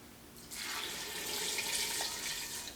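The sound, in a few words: water with bouillon poured into a pressure cooker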